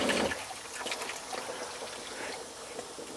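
Antifreeze trickles and splashes from the hot-side faucet of a 2024 Winnebago Travato 59KL camper van, a steady thin liquid stream running for a few seconds.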